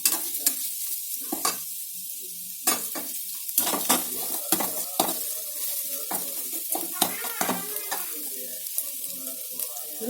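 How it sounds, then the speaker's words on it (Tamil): Grated vegetables lightly sautéed in a pan for wheat idli, with repeated sharp clinks and scrapes of a spoon against metal over a soft sizzle, close and fairly loud with no talking. "நல்லா லைட்டாக வதக்கிக்கிங்க."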